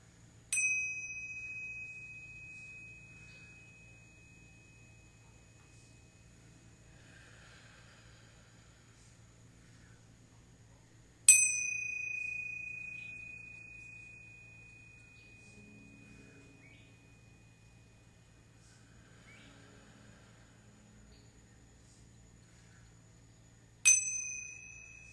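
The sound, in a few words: meditation chime ringing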